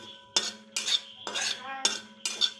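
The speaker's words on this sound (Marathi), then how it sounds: "खसखस आपण चांगली भाजून घ्यायची त्यात तेल वगैरे काय टाकायचं नाही" Poppy seeds dry-roasted in a pan without oil, stirred with a metal spoon that scrapes and clinks against the pan in repeated bursts, close and clear with nothing else heard.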